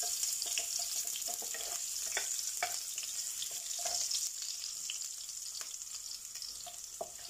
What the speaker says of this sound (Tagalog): Ihintayin natin na mag-init ang ating olive oil bago natin ilagay yung ating garlic.